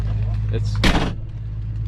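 A solid car door on a 1969 Mercury Cougar Eliminator shuts with a single heavy, close thump under a low steady background hum, with people talking around it.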